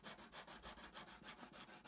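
Wood is hand sanded with 120 and 220 grit sandpaper in quick, regular back-and-forth strokes, about five per second, each one making a close, rasping rub with no talking.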